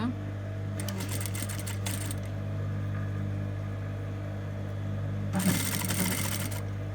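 A sewing machine stitches a zipper into a sweatshirt with a stand-up collar, running in two short whirring bursts separated by a quiet pause, close and fairly loud over a steady low hum.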